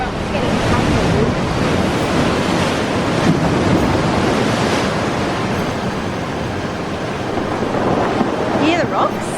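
Ocean surf breaking on a rocky shore at Remarkable Bay, Tasmania, with a steady roar of waves, rocks rattling and tumbling in the wash, and heavy wind buffeting the microphone throughout.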